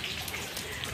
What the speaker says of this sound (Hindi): बारिश भी थोड़ी सी हो रही है, ज़्यादा नहीं कम बारिश हो रही है